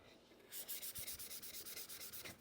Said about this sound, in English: we'll just hit this with a scuff sand, a 400 grit